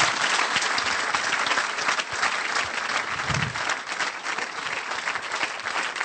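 A church congregation applauds in praise during a worship service, with steady, dense clapping and crowd noise that runs loud and continuous throughout, with no break.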